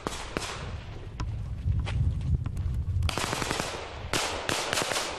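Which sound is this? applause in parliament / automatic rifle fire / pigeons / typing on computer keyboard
automatic rifle fire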